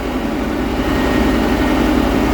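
Inside the cab of a John Deere 2140 tractor, the engine drones loudly and steadily with a heavy low rumble and broadband roar, and no voices are heard over it.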